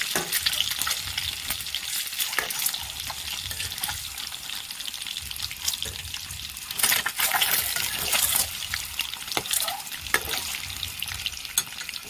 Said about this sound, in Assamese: এতিয়া ডিমকেইটা অলপ ফ্ৰাই কৰি লৈছোঁ ৰঙা কৰি ল'ম